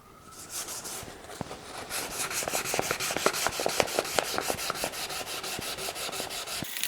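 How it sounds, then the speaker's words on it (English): A rag dampened with mineral spirits wipes excess finish off parts of a restored pre-war sled, giving steady close rubbing strokes with faint scraping and light knocks throughout, and no talking. "Just dampen my rag with a little bit of mineral spirits, and hopefully I can clean a lot of the excess off"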